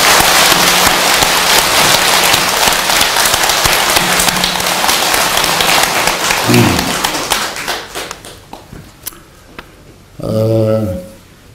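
An audience at a Buddhist Dharma assembly claps for the head monk, dense clapping for several seconds that thins into scattered claps and dies away, with a brief voice near the end.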